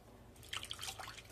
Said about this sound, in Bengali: পালং শাক ধুতে ধুতে যতক্ষণ না জলটা পরিষ্কার বের হয় ততক্ষণ আমি ভালো করে ধুয়ে নিই